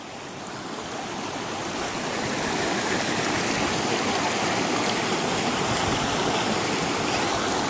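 Flowing stream water rushes steadily and loudly, a dense continuous wash that swells slightly over the first few seconds and then holds even, with no voices.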